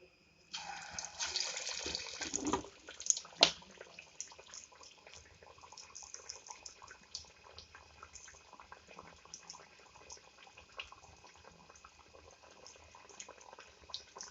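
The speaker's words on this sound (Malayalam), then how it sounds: "നല്ല തിളച്ച എണ്ണയിലിട്ട് ചെറു തീയിൽ വെച്ചിട്ട് വേണം ഇത് ചുട്ടെടുക്കാൻ" Parippu vada, lentil fritters, drop into hot oil with a loud initial hiss, then settle into a long stretch of quieter, continuous bubbling and crackling.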